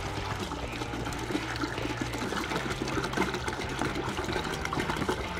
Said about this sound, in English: we're gonna put in 1 gallon of apple juice into a big pan